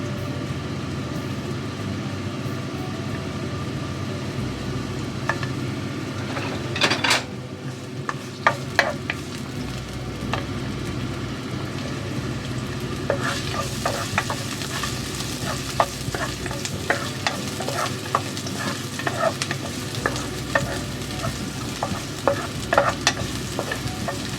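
Ginger and garlic sauté in a little oil, a constant low sizzle with bursts of spoon-on-pan scraping and clatter that grow busier in the second half, no voices.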